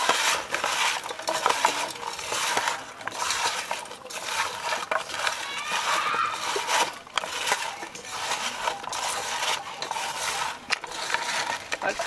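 Boiled elephant-foot yam is mixed by hand with salt and turmeric in a kitchen vessel, giving steady soft squishing and light clinking throughout, without talk.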